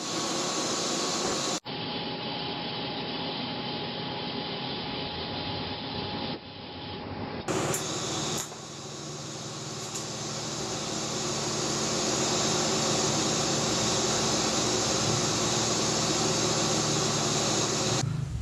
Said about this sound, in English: Alright, got the ProTig 200. I just picked this thing up recently and I'm really digging it. It works really, really well. I'm gonna get welding this handle on now.